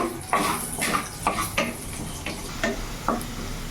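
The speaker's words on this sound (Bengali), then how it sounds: "রসুন কুচি নিয়েছি, একটু হালকা ভেজে নেব" Chopped garlic lightly frying in oil in a pan, a soft sizzle under repeated scraping and clinking of a spatula stirring against the metal pan at a steady rhythm.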